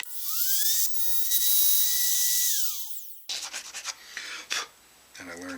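A router with its bit set to depth test-cuts wood for a headless guitar bridge recess: a high motor whine rises and holds steady, then cutting bursts and rasping chatter, and the pitch winds down at the end.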